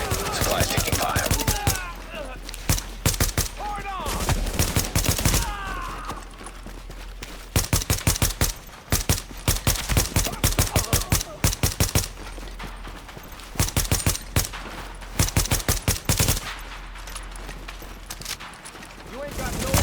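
Gunfire in Tom Clancy's The Division rattles in rapid automatic bursts with short pauses, loud and close, and voices come through in places.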